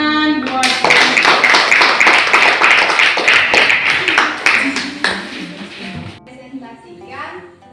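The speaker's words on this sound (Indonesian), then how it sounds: "Oke, berikan tepuk tangan buat" Classroom clapping for a fable presentation in an Indonesian lesson, many hands striking in a dense, steady patter for several seconds before fading, with voices mixed in.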